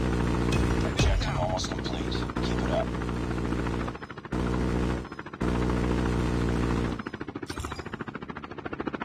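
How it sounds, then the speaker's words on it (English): Chopper gunner helicopter in a video game, a loud steady rotor drone with rapid machine-gun fire layered over it, briefly cutting out a few times before resuming. "Deployed chopper gunner."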